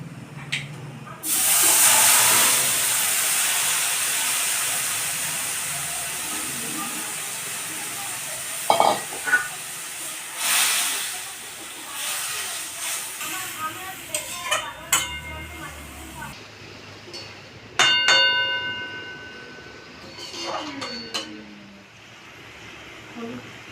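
Small puti fish dropped into hot mustard oil in a wok burst into loud sizzling and hissing, settling into steady frying with clinks and scrapes of stirring.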